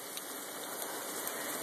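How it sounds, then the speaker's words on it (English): Heavy rain pours steadily around hikers sheltering under a rock ledge, a dense, even hiss that stays loud throughout with faint scattered drips and no talk. "But now it's really rainy."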